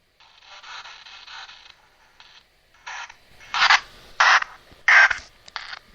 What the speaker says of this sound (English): And this is what a real spirit box sounds like,